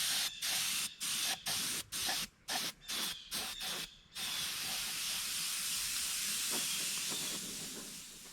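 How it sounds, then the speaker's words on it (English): An airbrush sprays chrome pearl paint onto a replica muskie fish. Short hissing bursts start and stop rhythmically, then give way to one long, continuous close hiss. "Now I spray the bottom half with a chrome pearl, avoiding the fins."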